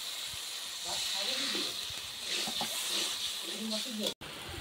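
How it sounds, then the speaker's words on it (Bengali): Water poured into fried spice paste for a Bengali bata fish curry, giving a steady loud hiss and sizzle from the pan that continues for several seconds, with a voice talking faintly over it. "মশলা কষে গেছে, মশলা কষে গেছে, এবার জল দিয়ে দিচ্ছি।"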